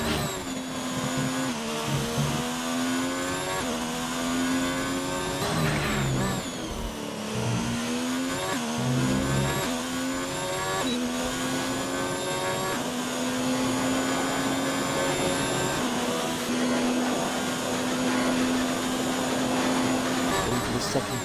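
Onboard view of a Formula 1-style car on a flying lap in a racing video game, with a steady high-pitched engine whine that rises and falls through gear changes and stays loud and continuous throughout.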